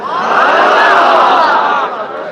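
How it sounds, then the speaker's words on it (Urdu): A huge crowd of devotees roars and cheers together at a night religious gathering for Shab-e-Barat, a loud sustained wash of massed voices that eases slightly near the end. "یہاں پر جو ٹھاٹے مارتا ہوا انسانی ہجوم ہے"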